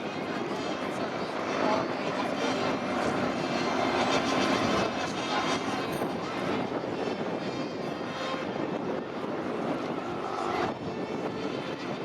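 Two Spitfire propeller aircraft flying past at a Battle of Britain Memorial Flight display, a steady, distant engine drone that rises and falls over twelve seconds, with a crowd and a commentator's voice underneath.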